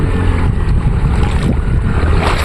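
Floodwater from heavy rainfall rushes through a village with a loud, continuous roar and a rumbling low-end churn. Wind buffets the microphone, and no voices are heard.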